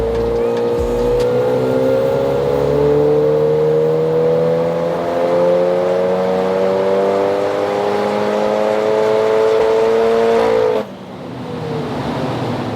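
Tuned stage 3 Audi S1 engine revving hard on a dyno, a loud sustained pull with rising harmonics for about eleven seconds before the throttle lifts and it drops off abruptly.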